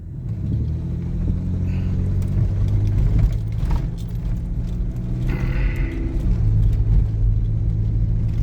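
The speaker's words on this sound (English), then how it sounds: "Hang on, car coming." A car on a wooded road rumbling steadily nearby, its engine noise swelling as it passes the listener, with no talking.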